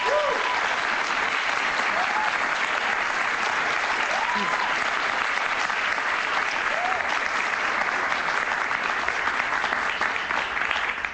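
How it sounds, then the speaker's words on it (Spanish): An audience at a talk show taping with María Corina Machado and Jaime Bayly breaks into sustained applause, a thick even wash of clapping lasting the whole stretch, with a few faint voices calling out over it. "Un aplauso para ella"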